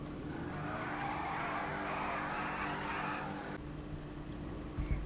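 A steady racing engine drone from a race car in a video game, with a broad hissing, screeching layer like tires sliding, which cuts off abruptly partway through, leaving a quieter engine hum.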